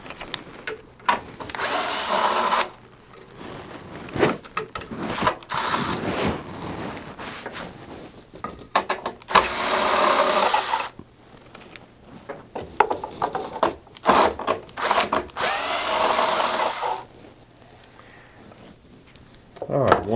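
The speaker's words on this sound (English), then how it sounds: "using a 5/16 nut driver, we'll reach down and remove the 4 screws that hold this bracket to the housing" A 5/16 nut driver on a power drill with a magnetic tip backs out four screws holding a blower bracket to the housing of a Phoenix DryMAX dehumidifier. Several loud, close whirring bursts are separated by quieter handling sounds and someone talking.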